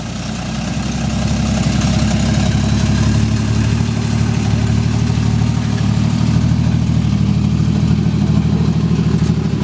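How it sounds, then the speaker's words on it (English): A car engine revved hard in first gear with the foot brake held, a loud, close, sustained roar that climbs and holds at high revs with a rough rumbling undertone throughout. "Just rev it up and see what it does"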